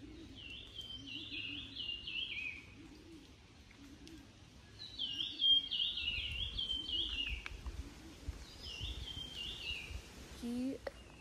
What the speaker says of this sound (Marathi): तसे आवाज येत आहेत इथे पक्ष्यांचे